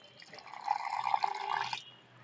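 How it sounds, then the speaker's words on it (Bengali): Water left from boiling raw mango is poured in a small amount, a soft, close trickle lasting under two seconds that stops abruptly. "ওই যে আম সেদ্ধ করে জলটা সামান্য পরিমাণে অল্প দিয়ে দেবো।"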